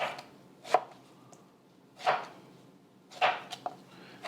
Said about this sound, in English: then you want to chop them up pretty small